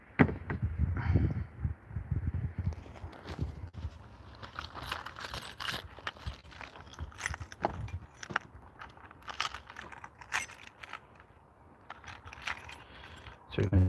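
A large bunch of keys jangles and clinks in irregular bursts for several seconds in a garage during an Opel parts clear-out, close and fairly loud, with occasional handling knocks and brief quiet gaps.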